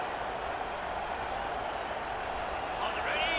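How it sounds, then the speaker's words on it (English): Simulated stadium crowd in a college football video game, a steady dense roar of cheering fans in the red zone, with a commentator's voice under it. "Now the crowd responding in the red zone, trying to help this defense."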